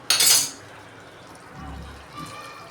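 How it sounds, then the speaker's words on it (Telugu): Masala water poured into a pot of chicken curry: a bright splash at the start, then softer liquid trickling and low bubbling, close by with no talking. "ఇప్పుడు తగినంత నీళ్ళు వేద్దాం."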